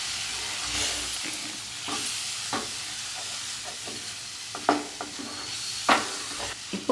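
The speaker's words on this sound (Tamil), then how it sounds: "அப்படியே கிளறிட்டே வாங்க" A spoon stirs roasted gram (pottukadalai) halwa in a pan, soft scraping strokes and light sizzling repeating in an irregular rhythm, close and alone with no voices.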